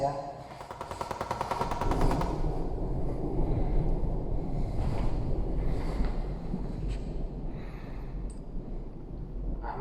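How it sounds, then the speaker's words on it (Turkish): Bursts of rapid gunfire crackle in the distance during a war, then a steady windy rumble with scattered faint shots, heard from indoors or a sheltered spot. "Dışarıda savaş var. Hala silah sesleri geliyor."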